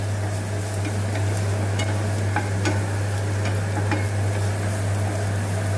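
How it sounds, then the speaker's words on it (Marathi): Finely chopped ginger, garlic and green chili sautéing in a pan for momos, giving a steady close sizzle with a few scraping stir strokes and a low constant hum underneath, no talking. "हे अद्रक लसण आणि मिरची बारीक चिरून घेतलेत मी ते चांगलं असं परतून घ्यायचं आहे"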